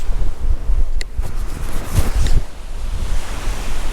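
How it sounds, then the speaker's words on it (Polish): Strong wind at the Romanian seaside, heavy gusts buffeting the microphone over a continuous roar of surf, loud and unsteady throughout. "strasznie wieje"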